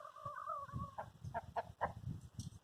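A rooster named Rufus calls to his hens with a short run of low, clucking notes, faint and somewhat distant, each call a few tenths of a second apart.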